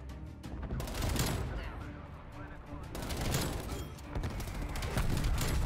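Rapid MP5 submachine gun fire in Call of Duty Cold War, dense continuous bursts with a couple of brief gaps, loud and busy throughout.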